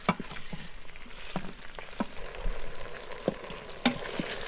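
Onions for French onion soup cook in butter in a pan, giving a quiet, continuous sizzle broken by scattered crackles and pops, with no voices over it.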